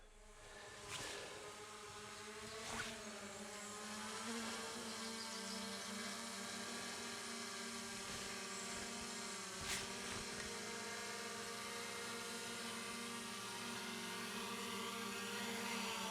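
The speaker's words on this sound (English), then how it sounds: "It's coming right down the canopy here. We're going to see if it can land on its little dirt spot that I had picked for it." A DJI Lito X1 drone hovers and descends toward a dirt landing spot under a forest canopy, its propellers giving a steady close buzzing whir with a few brief thumps and bumps, ending at touchdown.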